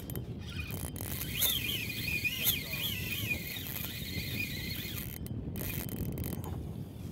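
A fishing reel cranks a peanut bunker jig at a medium retrieve, sped up and paused, for false albacore; a steady soft mechanical whir and ratcheting runs throughout at moderate, close range, with brief gaps near the end.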